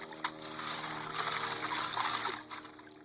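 Leaves and broken-up clay are rinsed in a small creek during gold prospecting at a low-velocity sluice, a steady close trickling and splashing of water with a few sharp splats.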